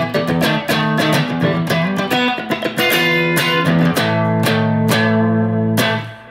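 A distorted electric guitar plays a dark diminished-scale lick, loud and continuous with dense sustained harmonics, moving through quick runs before settling into longer held notes and fading out at the end.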